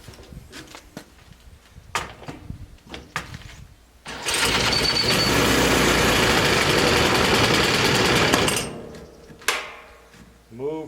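A weed eater engine is pull-started outdoors. Several sharp cord-pull bursts come first, then the small two-stroke motor catches and runs loudly and steadily for about four seconds before cutting out, followed by more scattered pulls.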